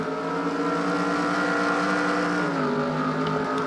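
Engines of IndyCar race cars in a racing video game drone in a continuous loud, even whine, pitch dipping slightly partway through, with no talk.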